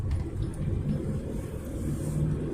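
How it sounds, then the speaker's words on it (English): A Ford Fiesta overtakes on the road, its passing engine and tyre rumble a steady low roar heard from inside an old Peugeot 205 diesel car, with no talk. "Somebody in a Fiesta, whatever, overtaking us."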